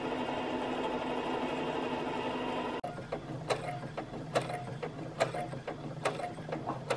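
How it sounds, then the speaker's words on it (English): A sewing machine hums steadily for a few seconds, then shifts to slower rhythmic mechanical clicks and stitches, close and fairly quiet. "So I'm gonna sew, and you know, it's very soothing, you know, the machine noise."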